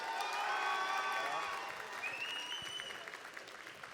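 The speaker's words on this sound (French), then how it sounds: "S'il vous plaît, les applaudissements pour LKR." Audience applause fills a hall at an anime awards ceremony in 2025, loud and dense at first and then thinning, with a few whistles rising over the clapping.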